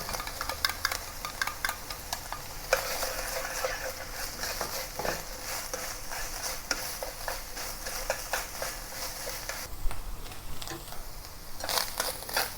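Beef stir-frying in a wok with chopped garlic for a spicy Sichuan beef and asparagus dish, giving a steady close sizzle broken by scraping stirs and spatula clatter, with no talking.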